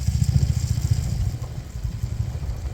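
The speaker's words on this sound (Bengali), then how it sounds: "তিনজনে মিলে বেরিয়েছি বাইকে চেপে" A motorcycle carrying three riders rumbles steadily with a rapid, throbbing low pulse, close by and fairly loud, with no voices.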